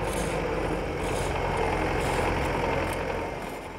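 Heavy snow-clearing machinery such as tractors, loaders, sand spreaders and dump trucks runs on city streets, a steady loud low engine rumble and drone holding throughout, then easing slightly at the end, with no voices.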